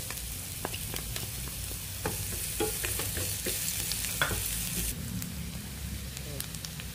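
Garlic and onion sauté in hot oil in a pan, a steady moderate sizzle with scattered clicks and scrapes from stirring, continuing without a break from start to finish.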